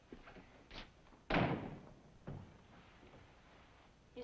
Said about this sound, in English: Would you close the door, please?